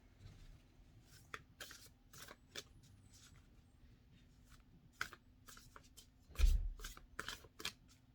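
Tarot cards being shuffled in quick, crisp bursts of riffling, with a soft thump of handling near the end, close by and fairly quiet.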